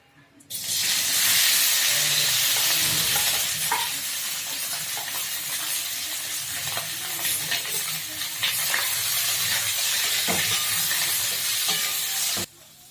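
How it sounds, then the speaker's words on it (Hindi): Potatoes frying in hot oil in an iron kadhai for a dry aloo sabzi, a loud steady sizzle and hiss running unbroken for most of the time, with occasional stirring scrapes, then cutting off near the end. "आलू के ई भूज रहल छी। ई तेल गरम भऽ गेल"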